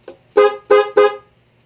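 A Honda Click scooter horn beeps three times in quick succession, short bright honks close by, with near silence before and after.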